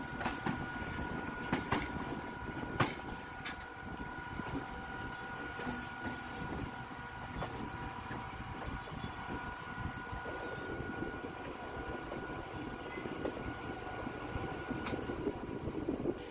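A Bangaon–Hasnabad line local train rolls into Dum Dum Junction in Kolkata, a steady rumbling run with a sustained tonal hum and occasional clanks from the carriages, continuous and fairly close throughout.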